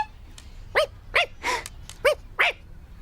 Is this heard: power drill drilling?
no